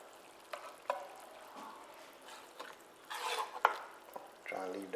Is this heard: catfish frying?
yes